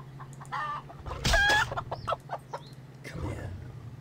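Chickens cluck in the game Predator Simulator, a few short calls and a louder squawk standing out over a steady low background hum, close and fairly loud.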